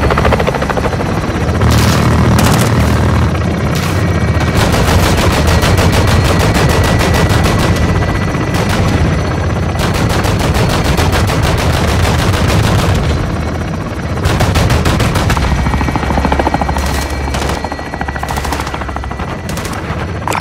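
Helicopter gunfire in Call of Duty Modern Warfare 2: heavy machine-gun bursts and booming impacts over a constant loud rotor drone, with repeated rapid volleys across the whole stretch.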